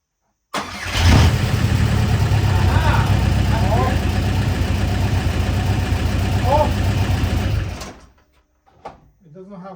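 VW Caddy BLS PD105 diesel with a PD130 conversion starts and idles loudly and steadily up close for several seconds, then cuts off, with brief voices at the end.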